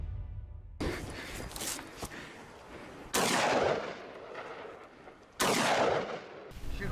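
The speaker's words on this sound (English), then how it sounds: "Continuous shooting." Rifle shots are fired at a wild boar in a swamp, with several loud separate cracks spaced a couple of seconds apart, each followed by a brief echoing tail over rustling background noise.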